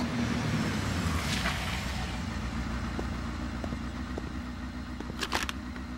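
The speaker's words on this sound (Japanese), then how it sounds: "お母さんのバイクの音。" A motorbike engine rumbles as it arrives, a steady low idle-like drone that fills the scene with a few small clicks and knocks near the end.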